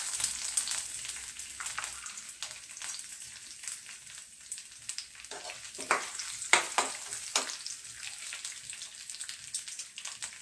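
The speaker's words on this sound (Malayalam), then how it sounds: "ഇനി നമുക്കിത് ഇത് ഈ തേങ്ങയും ഉള്ളിയും ഒന്ന് വറുത്തെടുക്കണം" Coconut pieces and onion frying in a pan give a steady soft sizzle with scattered crackles and pops, moderately faint and close, with no voices.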